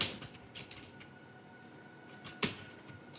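Quiet keystrokes on a computer keyboard while writing HTML come as a few scattered, faint clicks with one sharper tap near the end, over a low, steady room hum.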